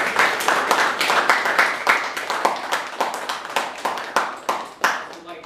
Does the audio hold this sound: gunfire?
no